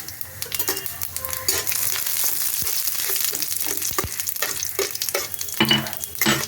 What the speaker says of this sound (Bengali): এই তেলের মধ্যে আমি এই 5 ফোড়নটা সব দিয়ে দেবো। 5 ফোড়নটা ভেজে আমি তুলে নেব।